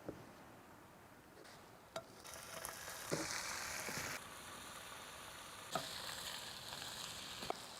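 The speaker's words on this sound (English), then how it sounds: "Chuck the bacon in, chuck some tomatoes in there as well," Bacon and tomatoes fry in a pan on a camping stove, giving a quiet, steady sizzle that swells and fades with scattered clicks and knocks of stirring, heard alone without talk.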